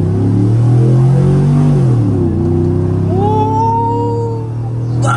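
A Chevrolet Silverado pickup truck revving hard during a burnout attempt, a loud sustained engine drone with rising and falling pitch, followed by higher whining tones.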